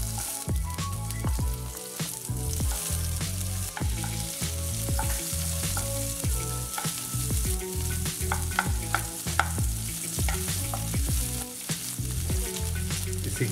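Chopped garlic and onion fry in a pan for sooji upma, a close, continuous sizzle broken by frequent scraping and tapping as the mixture is stirred.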